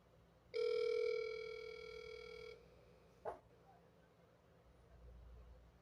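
A phone's video-call ringing tone sounds once, a steady electronic ring lasting about two seconds, followed by quiet room noise.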